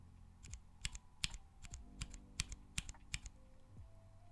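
Mechanical keyboard fitted with tactile gray switches being typed on, a series of crisp individual clacks at an uneven pace, close and fairly quiet over a low background hum.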